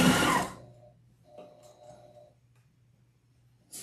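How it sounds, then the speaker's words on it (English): A sewing machine stitches across a sewn patriotic fabric wreath attachment in a short, loud, close whir that stops abruptly, leaving a quiet hum before a second brief burst starts at the end. "we just sew across"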